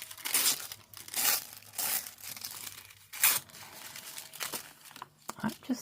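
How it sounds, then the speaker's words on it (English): A strip of material tearing away from a roller during a craft session making altered playing cards, heard as several brief crinkly rips and crackles between pauses, close by, with talking nearby. "Gotta hold it down a little bit tighter to get it to tear"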